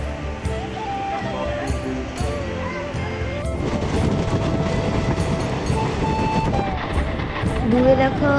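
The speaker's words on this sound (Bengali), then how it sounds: "আমরা ট্রেনে চেপে পড়েছি" A moving train heard from on board, its rumble and rhythmic clickety-clack on the rails growing louder partway through, with people talking over it.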